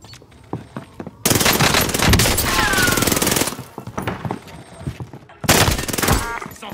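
Rapid automatic gunfire in Call of Duty: Warzone Pacific, loud sustained bursts of fire in two long volleys separated by scattered single shots, close and dominating.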